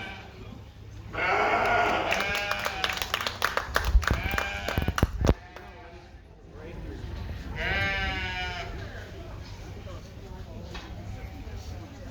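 Market lambs bleat at a fair livestock show, harmonic cries rising over a busy crowd murmur, with a burst of clapping and clattering in the middle and a second bleat near the end while people talk.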